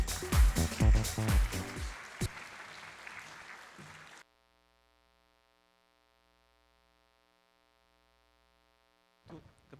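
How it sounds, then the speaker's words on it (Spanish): An audience at a university innovation competition event applauds its panelists, a burst of clapping mixed with a voice for about four seconds before cutting to near silence with a low electrical hum, then a brief return of sound at the end. "Y recibimos con fuertes aplausos a nuestros panelistas."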